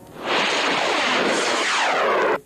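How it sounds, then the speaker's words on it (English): Rockets fired in bunches over a desert lake bed, a loud sustained roaring whoosh that swells up, holds for about two seconds and cuts off abruptly. "Rockets are fired off in bunches."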